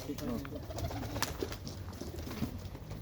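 Pigeons coo softly at close range in a loft, low repeated murmurs over a faint background hum and scattered rustling.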